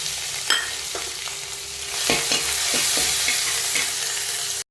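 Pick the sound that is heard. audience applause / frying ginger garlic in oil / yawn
frying ginger garlic in oil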